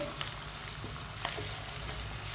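Boneless chicken pieces fry in a pan with a steady, close hiss and sizzle, a few soft clicks of stirring, and no voices.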